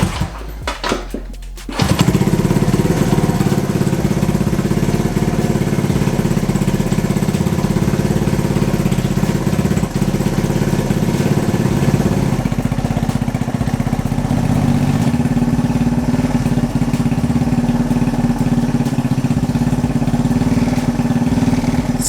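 A Honda CB125 cafe racer motorcycle engine catches after a brief crank and then runs loudly and steadily nearby, a buzzing single-cylinder drone with a slight rise in revs partway through.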